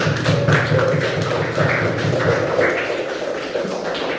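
A classroom group claps for presenting students, with a dense run of hand claps that is loudest at first and fades over a few seconds, with murmuring voices mixed in.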